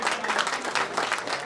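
A brief burst of dense audience clapping at an herbal medicinal farming workshop in Ghazipur, a steady crowd applause filling the whole short moment without talk.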